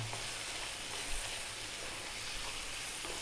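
Lamb bhuna curry cooking down in a pan, a constant dense sizzle and hiss with a low bubbling rumble underneath, steady and close with no talking.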